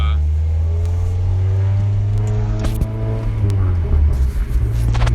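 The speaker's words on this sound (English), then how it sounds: "I'm gonna get a little second gear pull from 20 to roughly 60 and see how that feels." A warmed-up Saturn Ion Redline with a supercharged engine pulls hard in second gear from about 20 to 60 mph, a loud, close engine drone that climbs steadily in pitch under heavy load.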